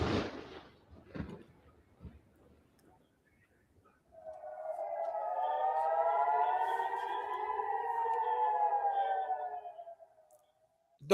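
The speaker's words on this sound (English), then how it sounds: "The haunting sound of air raid sirens in northern Israel last night." A single air raid siren in northern Israel rises and wails steadily for several seconds at a distance, after a few faint knocks and rustles in near silence.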